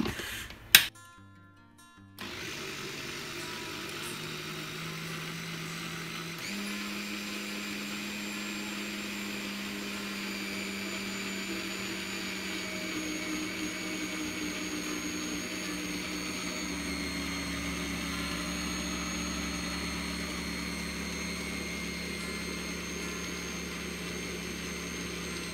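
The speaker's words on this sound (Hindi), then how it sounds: "अब इसे अच्छे से ग्राइंड कर लेंगे," An electric wet grinder runs continuously, steadily and loudly, grinding soaked urad dal with ice-cold water into a fine batter for medu vada, with a brief clatter at the start as the machine switches on.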